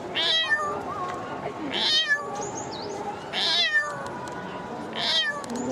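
A girl imitates a cat with her voice, making four separate high meows spaced about every one and a half seconds, close and clear over low background noise.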